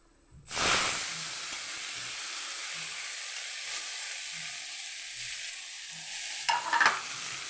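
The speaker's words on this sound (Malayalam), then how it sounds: "എണ്ണ ചൂടായിട്ടുണ്ട് കടുക് ഇടാം" Mustard seeds dropped into a small amount of hot oil for spinach curry set off a loud sudden hiss, then a steady sizzle with soft periodic pops and a final crackling flare.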